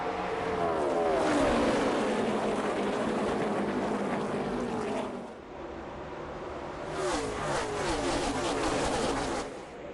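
NASCAR Xfinity Series race cars run three wide down the backstretch at speed, a loud whining engine roar with pitch sweeps as cars pass, dipping briefly before a second pack roars by.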